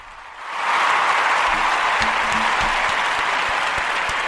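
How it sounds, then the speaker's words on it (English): A talk show audience breaks into applause for Nelly, swelling quickly after a quiet start into a sustained, loud wash of clapping. "So an applaud and congratulations to Nelly"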